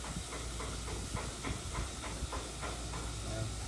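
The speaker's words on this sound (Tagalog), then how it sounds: "Lagyan ng Red Horse beer." Red Horse beer splashes into a hot pan of squid adobo, setting off a loud steady sizzle and hiss with crackling bursts throughout.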